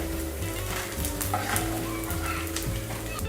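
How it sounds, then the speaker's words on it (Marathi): Pieces of edible gum (dink) frying in hot oil give a steady, close sizzle with soft bubbling crackle, continuous for a few seconds under a low, constant hum. "थोडा थोडा डिंक आहे ना तो आपल्याला तळून घ्यायचा आहे"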